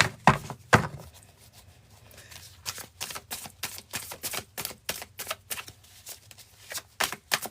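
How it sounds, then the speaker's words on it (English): A tarot card deck shuffled by hand, a quick riffle up front followed by a rapid, evenly spaced series of crisp card slaps, close and clear with no talking. "Quick shuffle for Scorpio."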